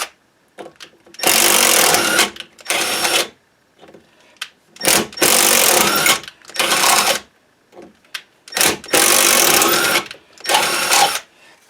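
An Irwin Hanson adjustable tap socket on a power driver cuts threads into lubricated metal in several loud, close bursts of whirring and grinding separated by short pauses, with no talk.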